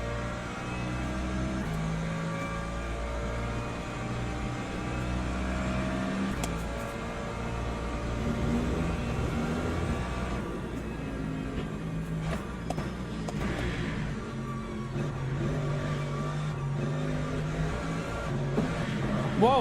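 Hypercars race past in Le Mans Ultimate, a steady engine whine with harmonic tones that rises and shifts as they pass, moderately loud and continuous throughout.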